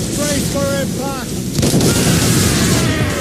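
Naval cannon and mortar fire during a ship battle in Assassin's Creed Rogue, with heavy booming blasts and rumbling over game music and voice calls, loud and close.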